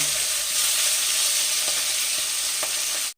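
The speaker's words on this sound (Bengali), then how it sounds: "মাছগুলো এক পিট ভাজা হয়ে গেছে আর এক পিট উল্টে দেব" Fish frying in hot oil in a pan, a steady loud sizzle throughout with a few faint clicks of the fish being turned, no voices.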